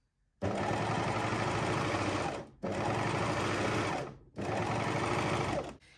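An overlocker sews a fabric seam for a midi skirt, trimming the raw edge as it goes, in three loud, sustained runs separated by brief pauses.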